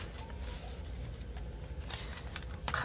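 Extremely large cards are shuffled close by, giving soft scattered riffles and flicks with a sharper burst near the end, fairly quiet with no talking.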